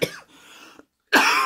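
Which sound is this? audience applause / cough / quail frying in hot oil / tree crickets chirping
cough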